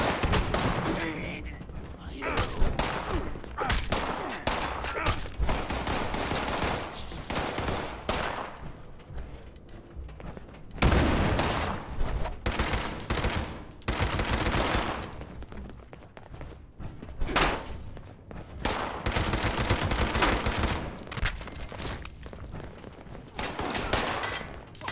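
Loud, dense bursts of gunfire from guns in the video game Fallout 76, rapid volleys repeating through the whole stretch with only brief gaps between them.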